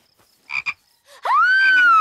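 A cartoon frog gives a loud croak, a couple of short throaty bursts followed by a long rising, drawn-out call, close and clear with no talk.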